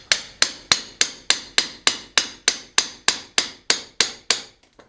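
A hand hammer strikes an old stone wall while a new window is being fitted: about fourteen sharp, ringing blows at an even brisk rhythm, loud and close, then a few light taps.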